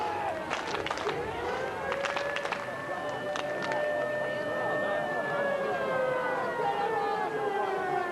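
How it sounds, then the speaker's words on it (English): A wailing siren rises and falls steadily in the distance at a 1999 Bradford vs Workington rugby league match, heard under crowd noise and scattered sharp sounds. "The siren's still going."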